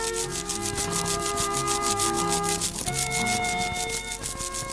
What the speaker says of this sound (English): rubbing his beak brush up and down on the side of the bath